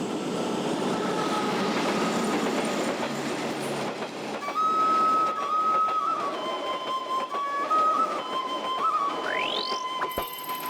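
A train runs on rails toward Ninh Binh, a dense rumble and rattle of wheels that later gives way to steady tonal squeals and a rising whine from the rails.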